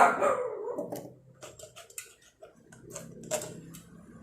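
Several dogs bark at a distance in short, irregular bursts, with a faint ticking mixed in and no talking.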